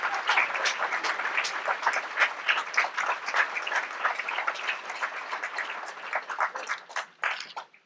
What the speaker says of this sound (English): Can you put your hands together and just give her a great round of applause?